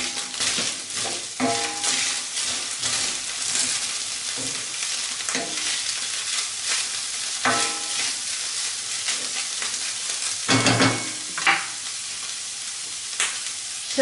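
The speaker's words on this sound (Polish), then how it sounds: "Mięso mieszam i podsmażam." Minced meat and onion fry in a pan for a homemade burrito filling, making a constant soft sizzle broken by about a dozen sharp scraping clatters as the mixture is stirred.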